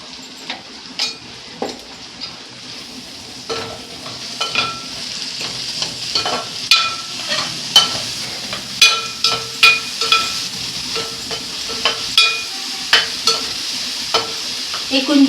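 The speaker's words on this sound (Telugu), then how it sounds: "ఉల్లిపాయ పేస్ట్ అల్లం వెల్లుల్లి పేస్ట్ కొంచెం వేగనిద్దామండి." Onion paste with ginger garlic paste frying in a pan during home cooking, with a steady sizzle under repeated sharp scrapes and clinks of a stirring spoon against the pan, close and moderately loud, no talking.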